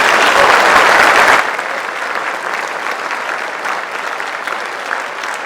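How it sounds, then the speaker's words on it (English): An audience at a high school class night applauds scholarship recipients with a loud wash of clapping that drops to a softer, steady patter after a second or so. "Let's give a round of applause for these people."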